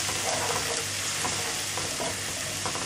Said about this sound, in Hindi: ये गार्लिक और जिंजर क्रश किया हुआ, वो हम थोड़ी देर उसको मिक्स कर लेंगे